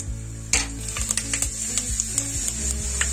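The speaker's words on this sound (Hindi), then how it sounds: "ऑयल मेरा गर्म हो गया, अब मैं इसमें डालूंगी मेथी" Fenugreek seeds dropped into hot oil for a kadhi tempering, a loud hiss of sizzling starting abruptly, with light rhythmic stirring clinks of a spoon against the pan continuing throughout.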